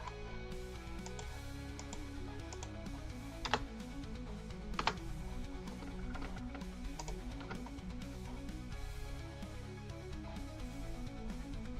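Steady typing on a computer keyboard, a continuous patter of soft key clicks with a few louder keystrokes, close and fairly quiet, with no talking.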